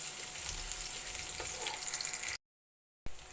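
Garlic and onion sizzle steadily as they sauté in a pan toward golden brown, a dense close frying hiss that cuts out abruptly near the end, then resumes briefly.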